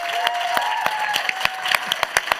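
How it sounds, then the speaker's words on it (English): Applause for panelists in a melanoma discussion trails off into a handful of sharp, separate claps spaced across a couple of seconds, with a faint tonal hum and light crowd noise underneath. "Let's give them another round of applause."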